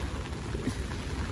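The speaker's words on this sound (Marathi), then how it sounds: "इथे पाऊस जरा कमी आहे" Light rain falls outdoors in a steady, faint patter that stays soft and even for a moment, with no voices.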